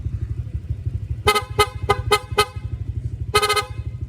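A car horn honks in quick bursts, several short toots and then a double beep, over a steady idling engine rumble.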